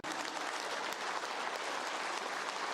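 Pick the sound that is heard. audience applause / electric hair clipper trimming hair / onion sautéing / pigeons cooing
audience applause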